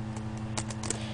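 Keys tapped on a computer keyboard while entering a Minecraft server command, a handful of quiet, irregular clicks over a steady low electrical hum.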